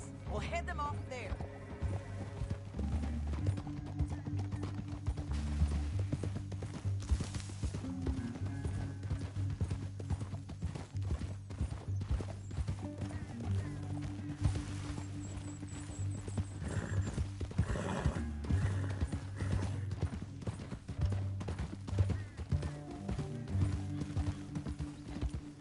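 In Red Dead Redemption 2, horse hooves clip-clop steadily along a canyon trail over a low music bed, with a horse whinnying at moments and voices talking over the top.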